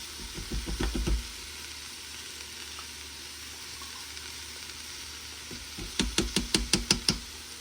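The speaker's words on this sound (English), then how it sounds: "I'm gonna throw this tomato paste in here" Tomato paste stirred into cooked-down onions in a pot for beef stew: a soft sizzle underneath, with bursts of rhythmic spoon knocks and scrapes near the start and again at the end, close and clear.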